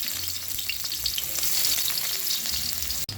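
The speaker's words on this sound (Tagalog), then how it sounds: "Una natin ilalagay ang luya." Ginger hits hot oil in a pan with a bright, even sizzle that carries steadily, with a low hum underneath and one sharp click near the end.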